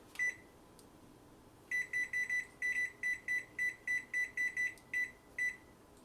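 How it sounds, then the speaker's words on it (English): A kitchen timer beeps while being reset during cake baking, a couple of isolated high beeps followed by a rapid run of about a dozen sharp evenly spaced beeps, clear and close. "Let me turn this timer off and put on another 15 minutes."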